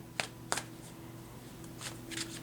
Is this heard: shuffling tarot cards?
yes